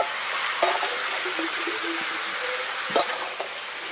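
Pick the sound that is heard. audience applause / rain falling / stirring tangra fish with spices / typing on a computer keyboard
stirring tangra fish with spices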